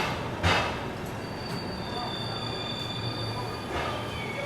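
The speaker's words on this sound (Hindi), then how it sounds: "चलिए अपना डिपार्चर हो चुका है रेनीगुंटा रेलवे स्टेशन से" A passenger train pulls out of Renigunta railway station with a steady rolling rumble, sharp wheel squeals and a couple of louder clanks, heard from close by inside the carriage.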